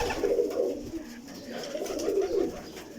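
Several pigeons of various breeds coo in a loft, a continuous overlapping murmur of low rolling coos that swells and fades, close by and moderately loud, with no talking.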